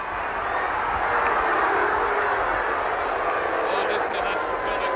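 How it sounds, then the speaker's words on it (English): A St Kilda football crowd roars at a 1966 Australian Rules match, a loud, sustained wash of cheering that swells slightly, heard beneath a commentator's steady talk. "listen to that St Kilda crowd"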